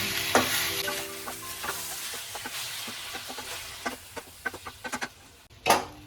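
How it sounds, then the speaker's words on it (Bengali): Chicken being stirred in a pan over a low gas flame for a stew, soft scraping and light sizzling with scattered spoon clicks and taps, a sharper clatter near the end. "গ্যাসটাকে একদম সিমে দিয়ে আমি 3 থেকে 4 মিনিট মতো চিকেনটাকে নাড়িয়ে নেব"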